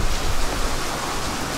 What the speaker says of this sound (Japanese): なんとご覧のように雨がついに降り始めてしまいました